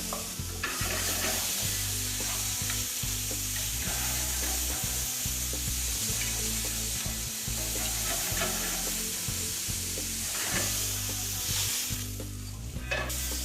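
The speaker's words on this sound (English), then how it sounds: "We want a caramelisation too, just of the sugars, not too brown" Onions and mushrooms fry in a hot pan for a beef pie filling, giving a steady, close sizzle with repeated stirring scrapes and knocks throughout. No one talks.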